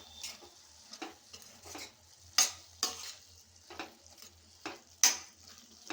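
Curry with garam masala being stirred in a pan, a spoon scraping and tapping the metal in irregular strokes over a faint low sizzle, no voices.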